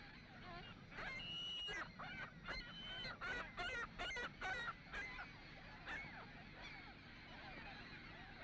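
Ring-billed gulls calling at a crowded nesting colony on a sand spit, a dense chorus of honking, squealing cries, some close and loud, others farther off.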